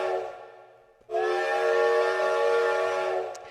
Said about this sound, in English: out-of-tune 5-chime whistle from Canadian National Railway number 3254